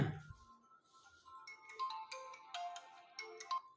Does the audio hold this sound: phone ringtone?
yes